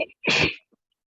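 A single sharp sneeze bursts out loud and close in a quiet classroom, followed by near silence.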